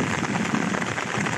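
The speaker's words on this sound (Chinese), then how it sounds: "天空下起了大暴雨。" Heavy rainstorm pours down in the countryside near farm fields, a dense, steady roar of rain hitting surfaces, loud and continuous with no voices.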